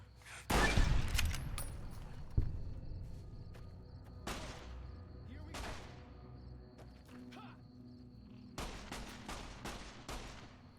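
Gunfire from the video game Fallout: New Vegas on Xbox 360 cracks out in scattered bursts: a loud opening volley, then sporadic shots and a final cluster of rapid reports, with background game ambience between.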